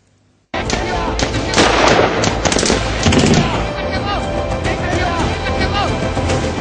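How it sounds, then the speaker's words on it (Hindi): Dense, rapid bursts of cross-border gunfire from the Pakistani side crackle continuously after a brief silence along the Indian border in the Samba sector, loud and chaotic with overlapping shots and a busy background. "भारतीय सीमा पर लगातार हो रही गोलीबारी"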